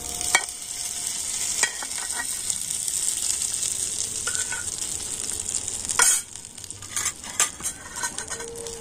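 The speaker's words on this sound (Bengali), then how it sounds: "আর এখন আমি চাটনির সাথে কিন্তু ভালো করে মিশিয়ে নিচ্ছি।" Oil-fried ingredients are mixed into chutney in a bowl, giving a close sizzling hiss with spoon scrapes and several light clinks against the dish near the end, with no one speaking.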